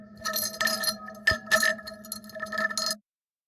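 Glass bowl strikes ring through heavy resonant filtering, sustained tonal hums layered under irregular bright taps, close and continuous before stopping abruptly.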